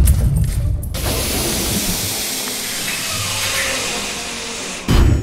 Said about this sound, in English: The safety airbag.